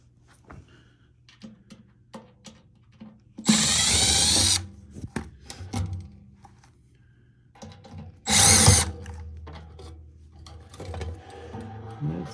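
A power drill removes screws from the cover of a Rheem water heater in two loud whirring bursts, one longer and one shorter, separated by quieter clicks and handling noises.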